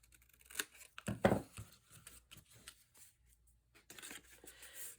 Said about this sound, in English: you're just going to bring in your scissors and trim out the corners